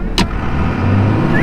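A Dodge truck with a 47RE or 48RE automatic transmission drives along, its engine and road noise a loud, steady close rumble after a brief click at the start.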